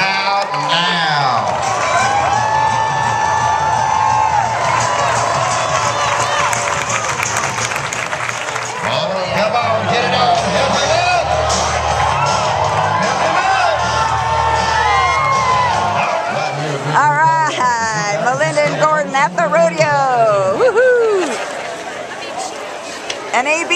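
A large rodeo crowd at the Ouray County Labor Day Rodeo cheers, whoops and shouts in loud sustained waves, with an announcer's amplified voice talking over the noise.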